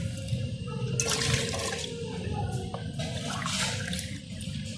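Water poured into a pot to make kahwa tea, a steady splashing, gurgling pour close by with a low background rumble and brief bursts of louder splashing.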